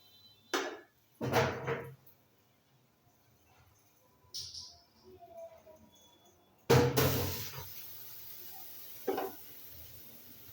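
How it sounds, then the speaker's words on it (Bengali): Reddish-fried onion is poured into mung dal cooking on the stove; a few utensil knocks and clatters come first, then a sudden loud sizzling burst that fades over a few seconds. No one speaks. "এখন আমি ডালের ভিতর ঢেলে দেব।"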